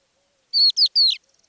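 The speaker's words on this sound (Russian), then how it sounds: "Самым доверчивым из утренних вокалистов оказался хохлатый жаворонок" Crested lark in the Manych steppe gives three short, bright chirping phrases in quick succession, clear and close against near silence, followed by faint soft ticking.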